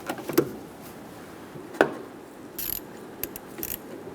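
A ratchet snugging the negative battery cable terminal on a 2014-2018 Chevrolet Silverado 1500 with a 5.3L V8: a few sparse, close metallic clicks and knocks with quiet stretches between them.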